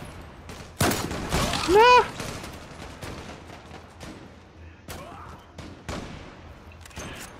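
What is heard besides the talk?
gunfire in Zula video game team deathmatch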